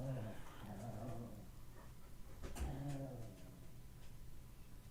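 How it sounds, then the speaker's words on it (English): A pet dog indoors at home growls and gives short low barks and whimpers, moderately faint and continuous across the moment, alone without talk. "That is my dog Heidi."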